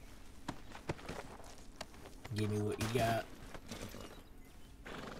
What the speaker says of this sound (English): Oh, my horse come wandering up.